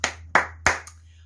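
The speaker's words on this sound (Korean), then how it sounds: "우리 하나님께 영광의 박수 드리겠습니다" Four sharp hand claps ring out at a church service, three evenly spaced strong ones followed by a softer fourth, each with a brief room echo.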